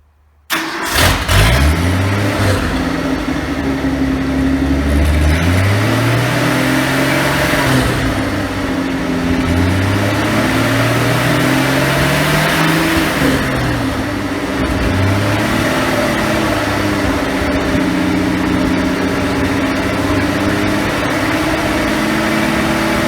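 A sawmill engine fitted with a new governor cranks and fires up abruptly, then runs loud and close with a throbbing idle that rises and falls in slow revving swells; no talking.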